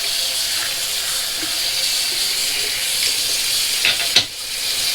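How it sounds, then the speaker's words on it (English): Running tap water rinses a Rockwell 6C safety razor at a bathroom sink, a steady close hiss of flowing water with a couple of brief splashes and clicks near the end. "let's rinse this out a little bit first"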